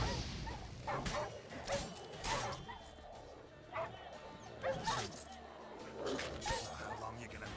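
Dogs in The Witcher 3 bark and yelp in scattered bursts at a moderate distance, mixed with game ambience and faint clatter.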